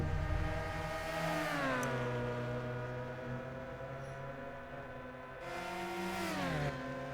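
An mm-R Cup Car and a McLaren F1 race side by side at the Nurburgring in a racing game, engines droning loudly and steadily, pitch sweeping up and down with gear changes and acceleration, with no voices.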